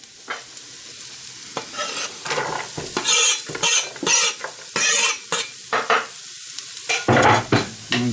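Finely diced marrow and carrot cooking in a pan, with loud bursts of sizzling and scraping as the vegetables are stirred, separated by quieter gaps; close by, no talking.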